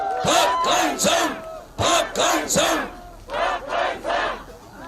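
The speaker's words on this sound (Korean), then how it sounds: "이제 소리 지르는 건 그만하고" A large crowd at a political campaign rally in Cheongju, South Korea chants and shouts in loud, rhythmic bursts, several waves of cheering voices rising and falling in unison.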